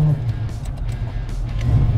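A 1979 Camaro Z28 V8 engine rumbles steadily as the car drives off, low and loud from inside the cabin, building slightly toward the end with faint voices underneath.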